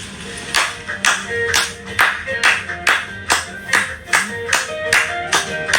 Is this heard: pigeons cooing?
no